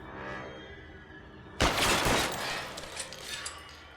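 In the video game L.A. Noire, a sudden burst of loud gunfire erupts after a moment of low background hum, followed by rapid crackling shots and sharp impacts.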